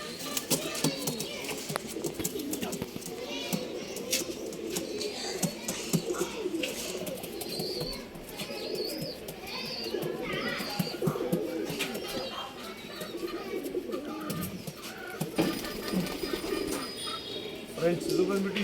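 Pigeons kept for sale coo and flutter nearby in a continuous murmur, with occasional chirps and scratchy movement, while someone talks over them throughout.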